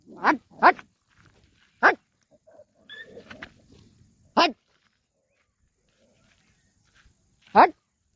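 Dogs bark in short, sharp bursts, about five barks spread unevenly over several seconds, with a brief stretch of talking between them.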